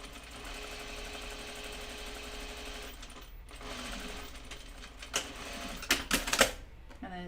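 A serger or coverstitch sewing machine stitches a pair of underwear, its steady rapid whirr running for about three seconds, pausing briefly, then resuming before giving way to a few sharp clicks and knocks near the end.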